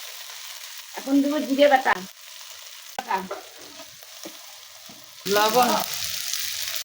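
Ginger, garlic and onion paste with spices frying and being stirred in a pan, with sizzling bursts and scraping stirs in short spells; someone talks over it.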